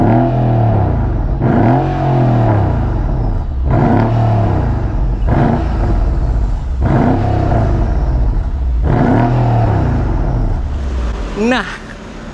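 A turbocharged 5.5-litre sedan engine revs repeatedly, six or so rising and falling surges with deep rumble and whine, loud and close, with a faint whistle near the end.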